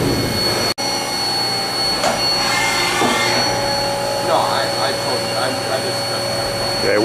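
A 2000 HAAS VF-5 CNC vertical machining center runs a program with its spindle at 6,000 RPM, giving a loud, steady high-pitched whine and whir with a sharp brief dropout near the start, while someone talks nearby.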